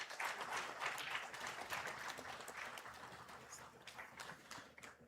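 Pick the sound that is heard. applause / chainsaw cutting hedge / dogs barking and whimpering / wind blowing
applause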